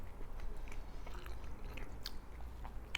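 Close, faint biting and chewing of a chilaquiles torta, crunchy rather than soft, with soft repeated crunches and wet chews over a quiet background.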